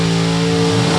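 Top sportsman drag racing car launching at an NHRA Division 3 event at Beech Bend, a very loud, sustained engine roar with strong steady harmonics rising slightly in pitch, no voices.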